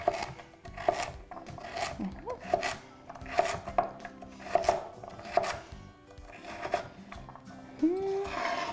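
Knife chopping carrots into quarters on a cutting board, a series of sharp, irregular close taps with short pauses between bursts, ending with a soft scraping sound.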